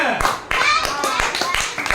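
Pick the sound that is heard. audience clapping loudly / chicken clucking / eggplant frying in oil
audience clapping loudly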